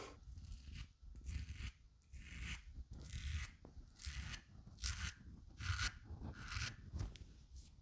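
A safety razor scrapes against the grain through shaving-soap lather, a close run of rasping strokes in uneven bursts with brief pauses between passes.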